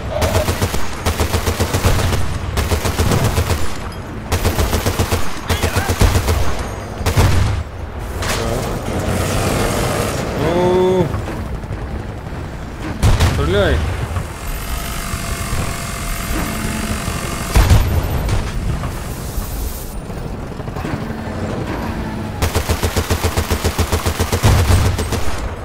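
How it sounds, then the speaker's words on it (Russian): Video game gunfire fills the scene with repeated loud bursts of automatic shots and heavy booms, broken by short pauses and clattering impacts, dense and close throughout. "Матис, выстрели сюда пару раз."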